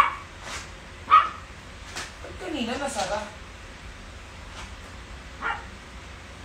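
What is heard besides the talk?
dog barking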